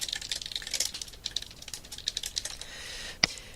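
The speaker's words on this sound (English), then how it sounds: "Just double click and type a new thing." Quick, light clicks of a computer keyboard in irregular bursts during spreadsheet work, close and fairly quiet, ending in one sharper keystroke.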